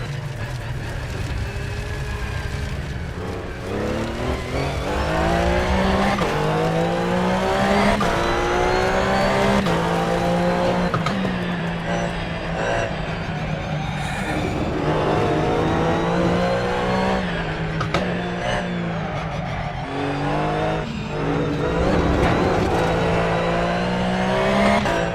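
A race car in Assetto Corsa laps Virginia International Raceway, the engine revving hard through rising and falling gear changes with steady tire noise, loud and continuous from onboard, no voices heard.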